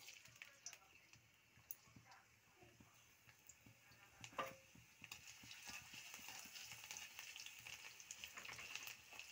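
Crushed garlic and dried red chillies frying in oil in a hot kadai, a low, soft sizzle with scattered light clicks and stirring taps, growing slightly denser toward the end.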